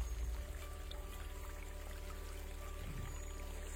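Cold mountain water pours into a refillable bottle on a hiking trail up Mount Slamet via Bambangan, a steady close trickle and splash with no talking.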